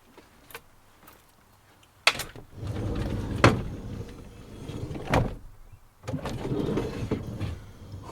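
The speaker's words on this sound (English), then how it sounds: "let's just make sure the door shuts." A van's sliding door is run along its runner and shut, with a sharp slam followed by rolling, rumbling slides and further thuds and clunks over several seconds, close and fairly loud with no talking.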